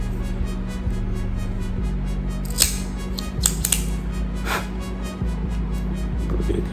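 A Rocky Patel Decade cigar being cut, a few sharp, close snips and clicks over a steady low hum.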